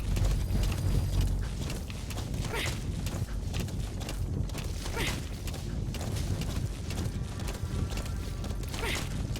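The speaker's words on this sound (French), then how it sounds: "Regardez-moi ce cheval de combat." War horse hooves in Metal Gear Solid V, a run of rhythmic clip-clops with creaking tack and occasional whooshes, fairly close and continuous throughout.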